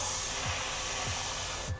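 An airbrush sprays paint onto camp chairs, giving a continuous close hiss with faint low thumps repeating underneath, cutting off near the end.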